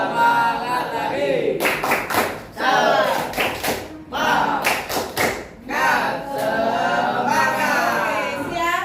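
Ninth-grade classroom 'tepuk semangat' spirit clapping repeated, bursts of patterned group claps and slaps alternating with children's voices and shouting, fairly loud and close.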